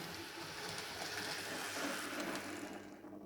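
A Hornby T9 Southern Railway model locomotive, a fast greyhound-class engine, runs steadily along model track with a continuous close rumble and whirring mechanism, no pause throughout.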